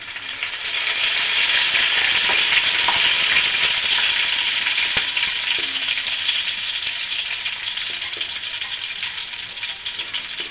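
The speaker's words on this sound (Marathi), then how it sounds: "आता कढीपत्ता टाकते." Garlic and curry leaves sizzle and crackle loudly in hot oil for a spiced Maharashtrian katachi amti tempering, a steady dense frying hiss throughout with occasional pops and a faint stir.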